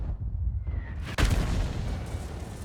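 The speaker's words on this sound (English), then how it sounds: "Thank you, artillery." A single heavy artillery blast in World of Tanks, a sharp broadband boom about a second in, ringing out over a steady low battlefield rumble with no talking.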